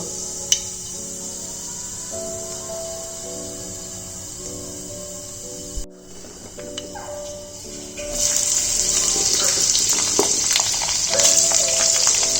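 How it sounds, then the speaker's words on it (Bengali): Cauliflower and other vegetables fry in oil with five-spice seeds in a kitchen pan, a steady close sizzle that swells louder and brighter toward the end, with a few light clinks of stirring. "আমি এক এক করে সব ভেজিটেবলসগুলো ফ্রাই করে নিচ্ছি"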